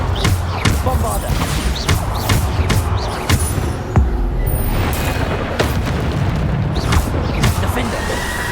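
Repeated Bombarda explosion spells cast in the Hogwarts Legacy video game, sharp booming blasts recurring every second or so amid busy combat noise and a spoken voice calling out spell names.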